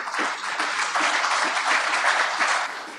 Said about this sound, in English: the spontaneous applause draws us to a close